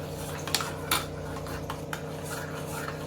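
A spoon scrapes and clinks against a vessel while flour is stirred into a tamarind kadhi mixture, giving a few sharp metallic taps amid soft, steady mixing over a low background hum.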